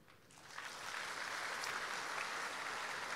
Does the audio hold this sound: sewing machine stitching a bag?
no